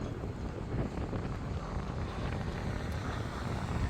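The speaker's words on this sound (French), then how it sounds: "Sacré vent" Strong stormy wind blasting outdoors on a mountain during a thunderstorm, a heavy, constant low roar buffeting the microphone with no letup.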